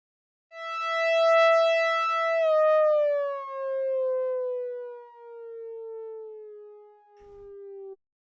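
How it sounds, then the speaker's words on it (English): Blade Runner style synth melody in a CS-80-type patch, one sustained bright tone rich in harmonics holding its pitch before bending steadily downward on the last note, loud and alone. "we can get the pitch bend that plays on the last note at the end of the melody"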